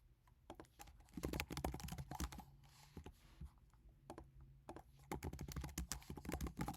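Quiet typing on a computer keyboard, irregular bursts of clicky keystrokes with short pauses in between, close and alone.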